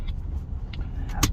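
A Toyota Innova Crysta diesel MPV idling with noticeable vibration, giving a steady low engine rumble throughout with a few brief higher clicks and a short sharp noise near the end, no talking.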